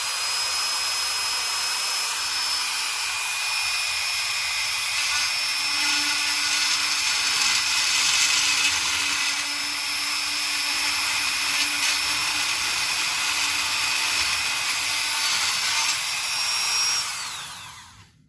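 A power drill whines continuously while boring down an axle shaft on a 1999 Chevy Silverado, a loud steady high-pitched drone that winds down and stops near the end.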